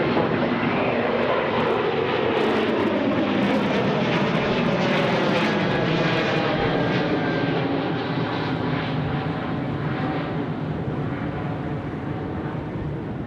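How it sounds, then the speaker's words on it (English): An airliner thunders along runway 34 right at Sydney Airport on its takeoff roll, a loud sustained engine roar with rising whine that slowly fades a little toward the end, with no one talking. "our Kiwi friends now rolling runway 34 right"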